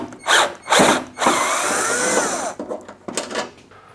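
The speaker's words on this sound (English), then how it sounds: "we can just undo these 4 screws" Four screws are undone from the extractor motor of a Hotpoint or Indesit cooker hood, giving close, short whirring bursts like a powered screwdriver, then one longer spin and a few faint clicks and taps.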